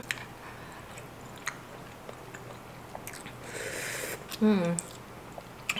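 Broccoli being chewed in a bowl of creamy, spicy, cheesy kimchi udon noodles: soft wet bites and squishy mouth sounds, close up and quiet, with a brief hum of voice near the end.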